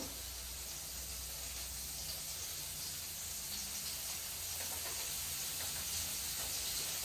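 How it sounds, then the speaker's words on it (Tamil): Coconut oil goes into a hot, dry cooking pot in a Sri Lankan home kitchen and gives a steady, even hiss and sizzle that carries on at a moderate level without voices. "இப்போ தேவையான அளவு தேங்காய் எண்ணெய் ஊற்றுவோம்"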